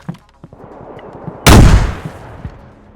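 A grenade goes off in the DayZ survival game: one loud, close blast at about halfway, with a long rumbling tail that fades out. Quiet scattered in-game noises come before and after.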